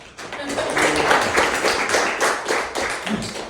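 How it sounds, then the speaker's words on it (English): Applause from an audience at a real estate training talk, distinct individual claps forming a lively, fairly close round with some voices mixed in. "So are these guys? Big round of applause."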